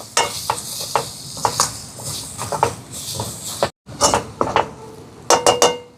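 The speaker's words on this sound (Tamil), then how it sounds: "இப்போ இந்த மாதிரி நல்லா கலந்து விட்டாச்சு" A spoon clinks and scrapes against a bowl while beaten egg with pepper and turmeric powder is stirred, giving irregular sharp taps and swishes up close, with a brief pause midway and no voices.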